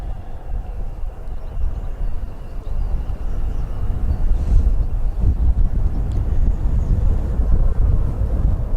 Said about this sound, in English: Certainly more noise coming from that Osprey.